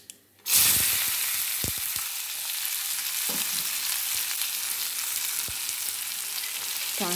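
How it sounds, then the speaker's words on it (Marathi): Onion sautéing in a hot pan: after a brief quiet start, a loud, steady sizzle and crackle begins and keeps going, with a few soft stirring knocks. "चांगला मऊ होईपर्यंत परतायचा"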